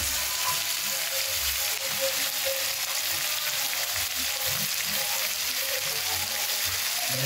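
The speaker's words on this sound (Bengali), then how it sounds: "আমরা ভালো করে ভাজবো।" Mutton frying with turmeric in a pan for a curry, a constant close sizzle with low rumbling bubbling and occasional spatters, steady throughout and without talk.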